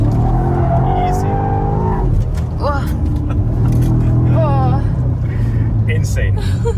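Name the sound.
BMW M5 G90 engine revving while drifting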